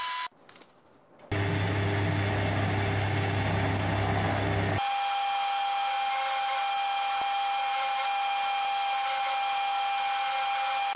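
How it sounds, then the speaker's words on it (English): A machine drills holes in a metal plate in a workshop ahead of a slotting operation, first a loud steady grinding roar, then a constant high-pitched whine, close and without voices. "Here I'm just drilling some holes to make the next slotting operation easier."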